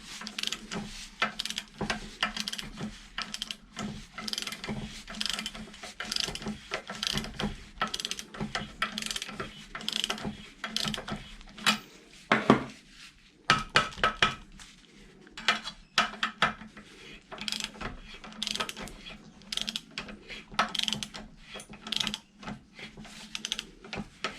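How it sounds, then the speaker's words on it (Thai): Steady metallic ratcheting from a socket wrench or spanner tightening a bolt while a car's control arm bushing is replaced, greased and pressed in without a press, fast rhythmic clicks running on alone with occasional knocks. "ใช้บล็อกก็ได้ใช้ประแจก็ได้ครับ"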